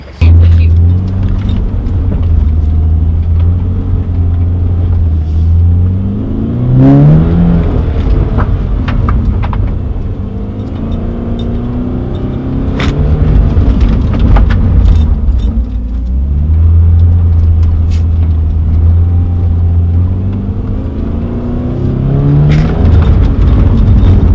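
A Subaru BRZ drifting in an abandoned lot, its engine droning loud and steady with rising revs and pitch sweeps as it slides, sustained and close throughout.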